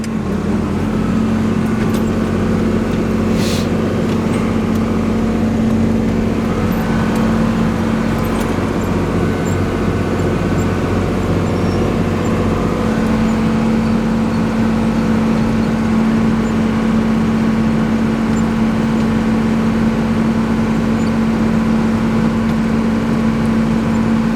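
A tractor in fourth gear pulls a manure spreader on a farm, giving a loud, steady engine drone with a strong constant hum that runs unbroken through the whole stretch, with no talk over it.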